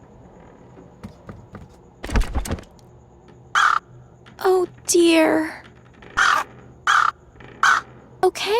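Harsh cawing from a crow-like bird at its nest in the Anna's Quest adventure game, several loud close caws in an irregular series with a brief rustle and thump, while a voice speaks briefly.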